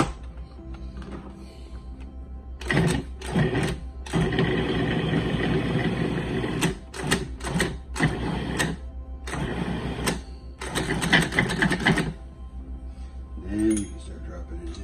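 Food processor pulsing pecan praline pie ingredients with salt, in repeated loud bursts of motor whir separated by short pauses, with a few clinks between pulses.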